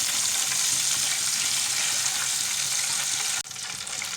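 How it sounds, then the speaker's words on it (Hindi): Chicken frying in hot oil, a loud, dense, continuous sizzle up close that drops slightly near the end, with no talking. "चिकन हमारा अच्छी तरह फ्राई हो चुका है।"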